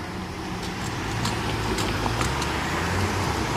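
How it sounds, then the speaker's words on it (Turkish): Car traffic at a busy four-way intersection with traffic lights on a European street, a steady rumble of passing engines and tire noise from nearby vehicles, with brief brighter swishes as cars go by. "Burada trafik çok fazla değil ama bu yol işlek bir yol, işlek bir cadde."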